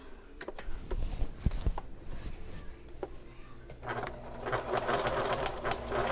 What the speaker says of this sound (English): We're going to sew with a 5/8 inch seam allowance.